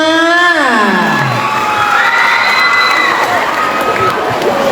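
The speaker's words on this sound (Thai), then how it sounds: "ขอเสียงปรบมือให้กับ M2 ของเราหน่อยค่ะ" A school crowd at a Loy Krathong Nang Noppamas talent show cheers and shouts for the M2 class, high whooping voices rising and falling over a continuous loud roar of audience noise.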